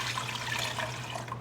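Water pours steadily into a cooking pot for boiling corn on the cob, a continuous broadband rush with a low hum beneath, close and alone with no talk.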